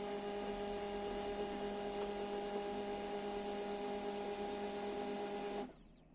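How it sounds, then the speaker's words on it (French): A laser printer hums steadily as it starts up, a constant faint mechanical drone with tonal whine that runs for over five seconds before cutting off abruptly. "je démarre mon imprimante."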